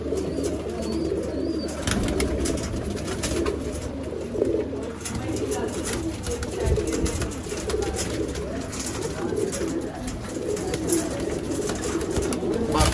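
Pigeons cooing softly at a pigeon market in Sialkot, amid a steady outdoor murmur, with wing flutters as birds are released and scattered calls over a constant low background.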